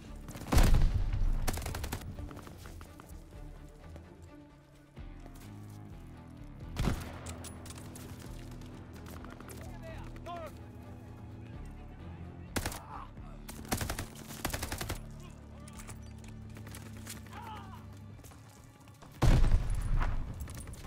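Bursts of gunfire ring out in a Call of Duty: Vanguard battle in the desert at Tobruk: several loud, sharp blasts punctuate a busy stretch of steady firing and combat noise, with faint voices in the mix.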